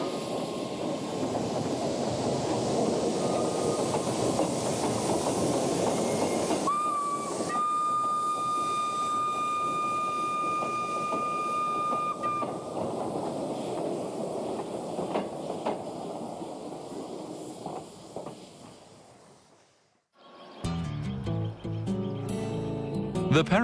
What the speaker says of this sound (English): Today, we will take you on a relaxing train trip in Paraguay.